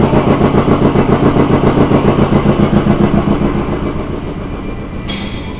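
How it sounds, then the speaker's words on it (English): An air compressor runs at a military base auto hobby shop, giving a loud, steady, rhythmic mechanical chugging that continues throughout and eases slightly toward the end. "And you can hear the air compressor going."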